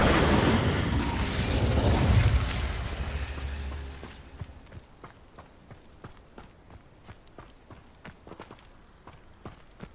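An Incendio fire spell cast in Hogwarts Legacy, a loud rushing burst that swells and fades over a few seconds, followed by steady footsteps alone.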